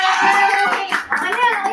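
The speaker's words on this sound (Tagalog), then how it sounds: "palakpak." Hands clap together in a quick burst amid children's lively voices and chatter during a playful home challenge game, the claps sharp but partly buried under the talking.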